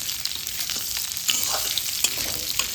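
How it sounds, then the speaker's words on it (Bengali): Drumsticks and potatoes that were fried earlier are stirred together in a pan. The cooking is a Bengali sajne data chachchari, with moringa drumsticks. The sizzling is steady and close, a spatula scrapes now and then, and no one speaks. "এবার দিয়ে দেবো দেখো ভেজে রাখা ডাঁটা আর আলু। এটা দিয়ে একটু নাড়াচাড়া করে নেব।"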